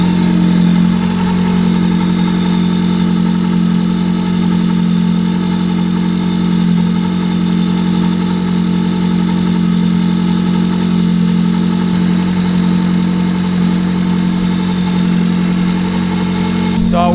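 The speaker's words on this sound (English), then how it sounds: "now it's idling at 650, right where it should be" A Honda Del Sol engine idles steadily at about 650 rpm, a loud, even, close hum with a constant low drone that holds unchanged for the whole stretch.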